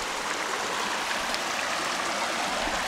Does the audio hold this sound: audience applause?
no